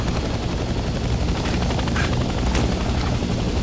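A helicopter in the Vietnam-era combat video game Hell Let Loose: Vietnam, its rotor thumping in a rapid steady pulse close by, with scattered sharp bursts layered over it.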